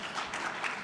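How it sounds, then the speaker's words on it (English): A room audience at a lower-face restoration presentation applauds steadily, a dense wash of claps at moderate level with no voices over it. "The room is applauding you."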